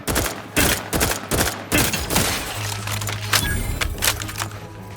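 Rapid bursts of gunfire from the game The Outer Worlds 2, loud, close repeated volleys with a steady low hum running underneath.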